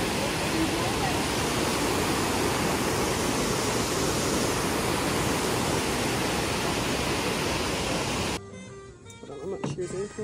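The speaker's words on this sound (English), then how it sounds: "Melissa, let's go to the creek." Cold creek water rushes and splashes steadily at close range, a loud broadband wash filling the scene for about eight seconds before cutting off to quieter outdoor sounds.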